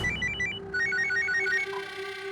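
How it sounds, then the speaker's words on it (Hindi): A telephone rings in a courtroom drama scene, a repeating electronic ringtone melody of short bright tones sounding clearly and alone over a steady low hum. "दरअसल उनका दोबारा से फोन आया था।"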